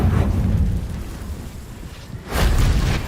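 Explosive Confringo spell in Hogwarts Legacy on PS5, heard as a heavy rumbling burst that fades into a lower roar, then a second loud blast erupts near the end; no voices.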